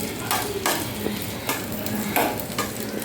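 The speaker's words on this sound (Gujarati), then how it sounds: "હવે બટરમાં સૌથી પહેલાં આપણે જે બાફેલા મકાઈ હતા એ સાતળીશું." Boiled corn kernels sauté in melted butter in a pan, a steady close sizzle broken by several scraping stirs from a spoon.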